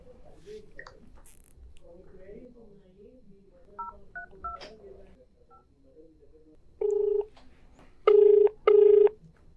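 Tones of a telephone being dialed to place a call to a doctor during a Telugu finance program, the last few loud, clear touch-tone beeps arriving in quick pairs after quieter background sounds, with no talking over them.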